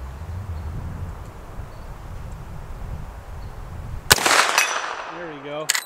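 A single loud rifle shot from a Marlin 1895SBL lever-action cracks out suddenly after several seconds of quiet outdoor background, followed by a brief ringing tail and a second sharp sound near the end.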